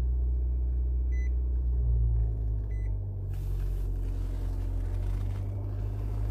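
Engine of a 2020 Nissan Kicks SV running just after a push-button start, a steady low rumble heard from inside the cabin with a couple of faint electronic beeps early on.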